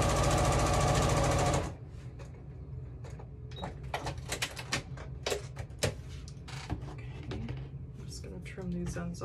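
A sewing machine stitches a fabric seam with a loud, steady, fast mechanical whir for about two seconds, then stops. Scattered handling clicks and fabric rustles follow, quieter and close by.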